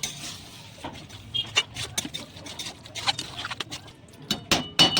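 Boiled egg pieces being stirred into shredded chicken vorta in a pan, giving soft patters and light scraping taps in irregular bursts, close and fairly quiet with no talking.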